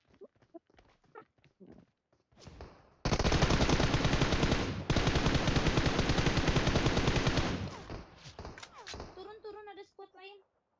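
Sustained automatic gunfire erupts in PUBG Mobile, a loud continuous burst lasting several seconds with a brief break, framed by scattered single shots and footsteps, while players talk before and after.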